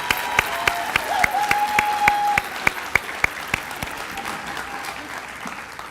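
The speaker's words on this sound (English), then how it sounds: "You can give them another round of applause." Graduates receive applause at a virtual academy graduation ceremony, a thin patter of clapping with sharp, regularly spaced claps standing out near the microphone and a brief whistle-like tone early on.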